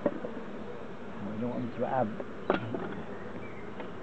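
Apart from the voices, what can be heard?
honeybees buzzing at apiary hive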